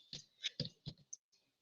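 Several quick, sharp computer mouse clicks close up, a handful in irregular succession, then a couple of softer ones trailing off into quiet.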